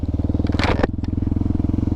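A Hero Xpulse 200 4V Rally Pro built for off-road competition, without stock exhaust, runs with a steady, fast pulsing engine note close by, with a brief clattering burst partway through and no talk.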